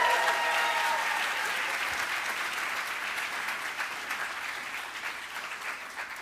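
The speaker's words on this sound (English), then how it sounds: "Can we give him one more round of applause?" A morning creative-community gathering in New York breaks into applause, a broad crowd clapping at moderate volume that starts full and gradually eases without dying away.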